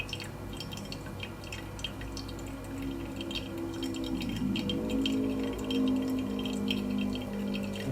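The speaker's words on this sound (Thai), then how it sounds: "ดูน้ำไหลด้านข้างผมมีกล้องอีกตัวหนึ่งนะครับ" Hot water poured over ground coffee in a Hario V60 paper filter cone, a continuous trickling and dripping flow with small glassy rattles, close up and steady, with no talk.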